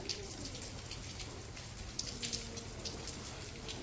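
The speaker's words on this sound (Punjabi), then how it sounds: "ਵਧੀਆ ਝੜੀ ਲੱਗੀ ਹੁਣ ਤਾਂ" Rain falls steadily and evenly, a soft constant patter with occasional louder drops landing nearby.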